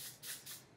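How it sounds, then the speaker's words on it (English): Two quick hissing bursts of aerosol hairspray, close and fairly soft, one right after the other. "You're going to want to spray it a little bit."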